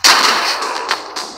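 Gunfire in the mobile shooting game Johnny Trigger: a loud initial shot followed by a few quieter repeated shot bursts over about a second and a half, with no talking.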